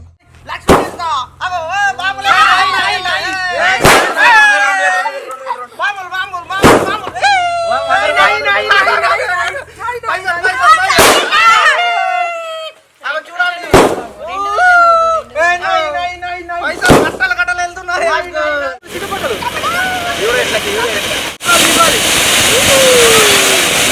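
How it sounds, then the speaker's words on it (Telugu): Firecrackers burst at a birthday celebration, with about six sharp, loud bangs spaced a few seconds apart over lively crowd chatter and voices, ending in a rougher noisy stretch. "బాంబులు కూడా ఉన్నాయి బాంబులు కూడా చూపించే ప్రయత్నం అయితే చేస్తాం"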